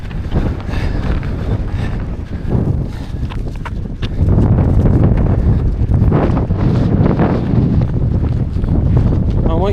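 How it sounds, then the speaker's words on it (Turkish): Strong, cold mountain wind on a snowy trail during the Antalya Ultra Marathon buffets the microphone with loud, rumbling gusts that grow heavier midway, with faint thuds and movement underneath. "inanılmaz bir rüzgar var."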